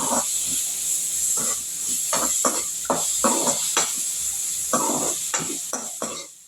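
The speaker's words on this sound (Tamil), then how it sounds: "பாதி வெங்காயம் தக்காளியை வதக்கி எடுத்துக்கலாம்" Steady sizzling hiss of onion and tomato sautéing in a pan, with repeated scraping stirs breaking through at an uneven rhythm, close and fairly loud.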